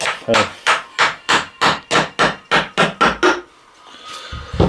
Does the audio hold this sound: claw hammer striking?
yes